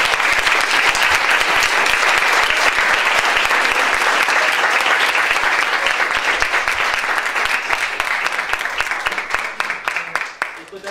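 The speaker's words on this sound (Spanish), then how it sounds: "Un aplauso, por favor." A large audience applauds steadily after a panel talk about abortion law, dense sustained clapping close and loud for about ten seconds, thinning slightly toward the end.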